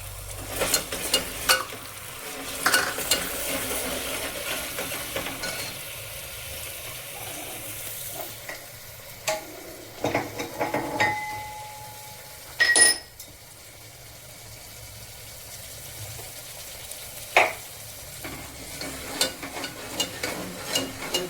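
A spoon scrapes and clinks against a pot while mixed dal cooks with onion and tomato, intermittent stirring strokes and metallic taps over a soft background sizzle, no voices.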